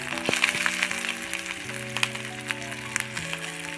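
Five-spice, ginger-garlic paste and chopped onion fry in a little mustard oil, a soft continuous sizzle with light crackles, with steady tones running underneath throughout.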